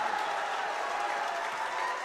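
Basketball crowd at a boys varsity high school game, student section included, cheering and applauding after an and-one play: a steady wash of applause and cheers filling the gym with no break.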